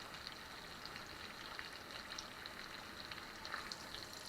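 Ribeye steak frying in butter in a cast iron pan, a steady, fairly faint hiss and sizzle with scattered small pops and crackles, no talking over it.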